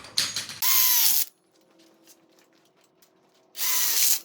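Two bursts of loud mechanical ratcheting during a DIY outdoor kitchen built-in grill installation, each lasting about half a second to a second, separated by a quiet gap with faint background hum.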